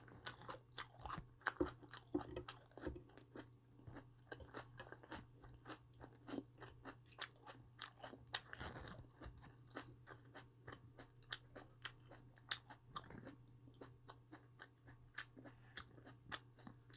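Close crunching and chewing of raw vegetables such as cabbage, perilla leaf wraps, carrot and bell pepper during an eating show, with repeated crisp bites and a steady low hum underneath.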